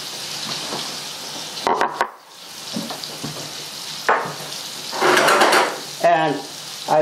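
Seasoned beef tenderloin sizzles steadily in a hot pan, a close hissing fry broken by scraping and stirring clatter from a utensil against the pan, growing louder in bursts.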